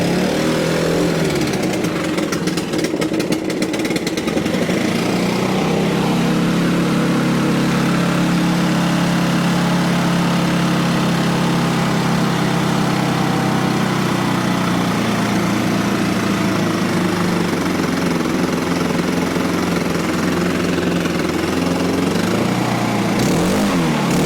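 Stihl BR800 backpack blower with a stuck throttle, its engine held at a high idle in a loud, steady, unbroken drone that sags slightly and recovers near the end.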